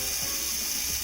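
A Mini 4WD (Mini Yonku) toy car with batteries fitted runs its motor and gears, producing a steady close whirring buzz with a faint gritty ratcheting texture throughout one short unbroken stretch.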